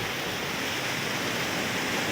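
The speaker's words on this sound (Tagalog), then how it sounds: "Papakita ko lang sa inyo dito mga idol yung talon mga idol" A mountain waterfall roars steadily from close by, a dense, unbroken rush of falling water with no voices over it.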